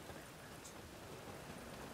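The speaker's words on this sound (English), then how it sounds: "Looks like rain." Rain falls in The Witcher 3: Wild Hunt as a faint, even hiss of steady rainfall, with no voices over it.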